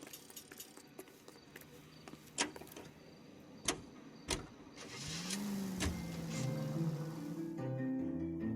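Car engine starting and driving in the video game L.A. Noire: a few sharp clicks and door thuds, then the engine turns over and settles into a steady rumbling idle and drive, with no talk.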